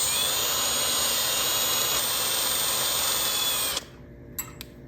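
A loud, steady power tool whine with a wire brush cleaning M10x1 bolts off a 1964 Datsun 320, running continuously close up before cutting off abruptly, leaving a few faint clicks.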